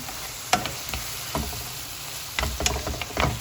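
Vegetables sizzle and fry in a pan for a stuffed bread filling, a close, continuous crackle broken by stirring scrapes and occasional sharper pops.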